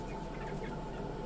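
Black Jersey Giant hens clucking softly in a brief, low burst, close by and fairly quiet over a steady background hum.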